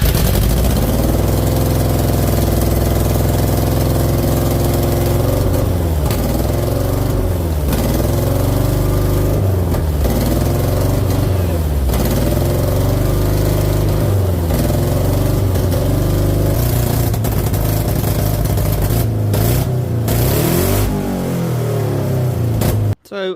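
A Subaru engine fitted in a VW T4 Bay van runs loud and close, idling roughly with repeated revs rising and falling, before cutting off abruptly at the end.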